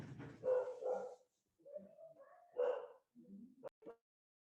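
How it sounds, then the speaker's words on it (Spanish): A dog barks in a string of several yips and barks at moderate distance, some sharp and short, some drawn out like whimpers, with brief gaps between them and no talking over the barking. "te voy a ver a quién le ladra el perro"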